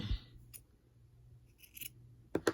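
Scissors snip yarn while trimming a pom pom bunny, a few sharp close cuts spread over a quiet stretch with faint rustling, no talk.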